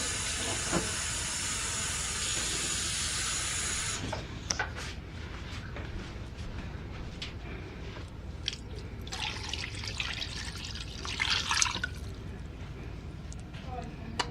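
Water is poured into a seasoned pan, swirled to rinse it, then poured over turkey wings for smothered turkey wings. A steady, hissing pour dominates the first few seconds, followed by quieter splashes, drips and sizzling bursts close by.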